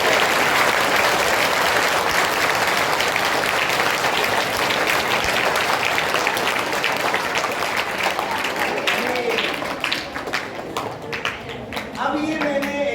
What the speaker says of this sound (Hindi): एक बार अपने लिए तालियां बजा लीजिए।